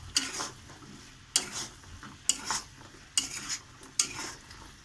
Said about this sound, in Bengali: অনবরত নাড়তে হবে এরকম ভাবে, নেড়ে নেড়ে প্রায় শুকিয়ে এসছে।